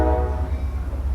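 A train rumbles past near an auto repair shop with a low, steady drone. It is loud and close, with a faint horn-like tone above it, over about a second with no talking.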